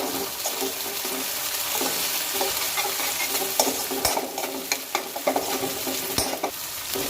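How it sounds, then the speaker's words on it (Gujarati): Onions sautéing in a pan for a Gujarati dal tadka, a steady broadband sizzle with frequent clinks and scrapes of a stirring spoon, close and fairly loud throughout. "હવે આપણે ડુંગળીને સારી રીતના સાંતળી લઈએ।"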